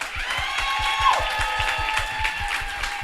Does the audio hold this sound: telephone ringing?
no